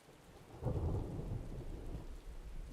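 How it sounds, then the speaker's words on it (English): A dark storm scene in an indie magical-girl video game, with a low thunder rumble swelling over steady rain, moderately loud, with no voices. "It was a dark and stormy Tuesday."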